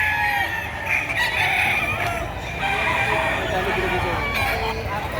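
Farmyard chickens clucking and a rooster crowing around a roughly two-year-old bullstag gamecock, with a voice talking over the busy fowl noise.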